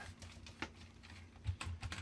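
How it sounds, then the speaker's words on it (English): An old, filthy computer keyboard rattles and clicks as it is cleaned, with a steady run of light key taps and a few louder clacks close by. "clean my keyboard."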